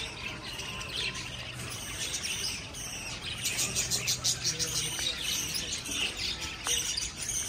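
Birds in a small park, chirping and tweeting steadily with a few squawks over a broad outdoor din, close and fairly loud, with a faint insect buzz underneath.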